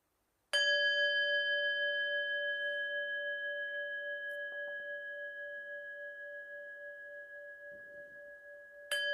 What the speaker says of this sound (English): It's what they call a singing bowl, and I have my little beater here